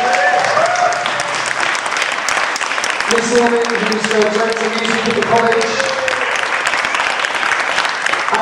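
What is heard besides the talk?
audience applauding St. Bede's Catholic College Choir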